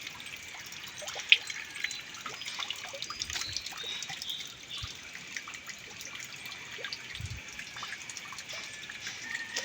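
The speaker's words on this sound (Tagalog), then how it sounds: "so kusog jud ang tubig" Rainwater runoff flows steadily, giving a continuous trickling, gurgling wash of water with scattered sharper drips, at moderate volume and with no voices.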